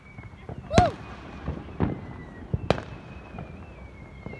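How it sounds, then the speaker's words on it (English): Fourth of July fireworks go off in the open: a whistling rocket and several sharp booming bursts spaced a second or so apart, with crackling in between and some voices in the background. "Just to relax and watch the fireworks."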